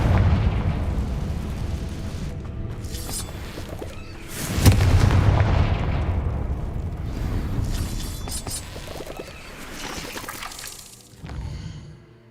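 Confringo fire spell explosions in Hogwarts Legacy on PS5: loud, booming blasts with a big burst near the middle, rumbling debris and crackling decay, then a smaller boom near the end.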